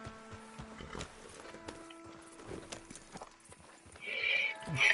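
Horse hooves clip-clop in Red Dead Redemption 2 gameplay, with irregular nearby steps, a few tonal game sounds, and a louder whinny-like cry near the end.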